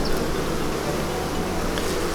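Buckfast cross Welsh Black honey bees swarm around an opened commercial hive during a June inspection, a dense continuous buzzing drone that is close and steady throughout.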